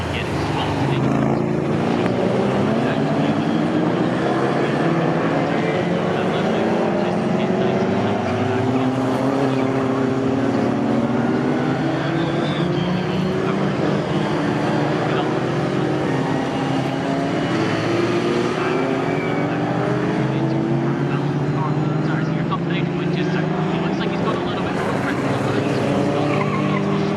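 Historic pre-1963 and 1950s race cars in an Equipe race at Snetterton circuit roar past without a break, their engines loud and sustained, with occasional tyre squeal and a commentator talking over the noise.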